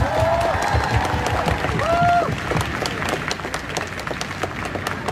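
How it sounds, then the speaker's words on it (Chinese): An audience applauds steadily throughout at a gathering celebrating an equal-rights bill clearing a legislative committee in Taiwan, the clapping dense and sustained, with a couple of rising whoop-like calls early on. "请你们给自己鼓掌"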